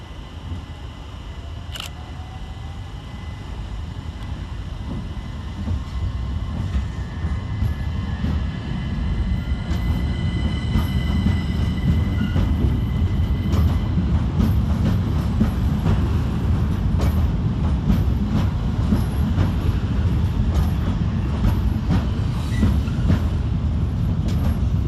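Two Southeastern Class 375 electric trains on the Hastings service pulling out of London Charing Cross station, a continuous heavy rumble and wheel noise that builds and holds steady, with faint squeals early on and no voices.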